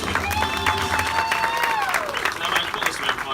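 Crowd applause and light cheering for swordsmen performing in a show at Walt Disney World, steady and lively, with a whistle-like tone gliding over the clapping.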